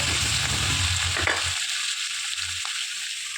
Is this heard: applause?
no